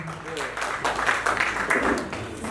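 Brief applause from a crowd at a community gathering, a short burst of clapping lasting a couple of seconds over background chatter.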